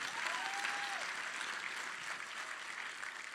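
A large theatre audience at PAX East applauds in a dense, sustained wash of clapping that holds steady throughout and fades slightly toward the end, with no talking over it.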